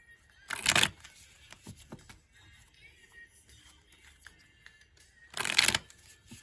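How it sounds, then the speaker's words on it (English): A tarot card deck is shuffled in two distinct riffling bursts, one near the start and one near the end, close and crisp, with quiet handling noises in between and no talking. "I'm going to shuffle the first deck just a few more times"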